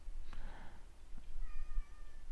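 A pet cat meowing indoors, a short cry followed after a pause by a thinner, higher meow, moderately loud over a steady low background hum.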